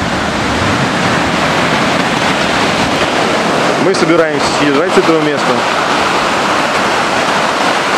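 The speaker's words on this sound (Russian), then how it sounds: "Вот такое море штормящее." Stormy Black Sea surf on the Crimean coast near Mezhvodnoye roars as a broad, continuous wash close by, with someone briefly speaking over it midway.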